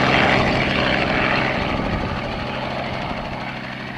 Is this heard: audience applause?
no